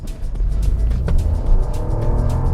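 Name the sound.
hybrid car petrol engine revving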